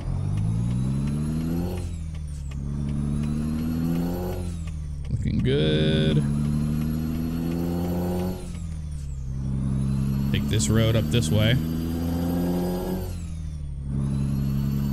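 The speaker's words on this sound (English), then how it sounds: "I love the sound of this truck." A Peterbilt 379 truck engine in American Truck Simulator rumbles heavily and revs through gear changes, with a hiss of air brakes, while someone talks over it.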